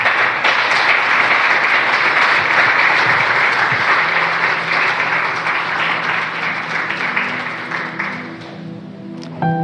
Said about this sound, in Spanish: Dale un aplauso a Jesús bien grande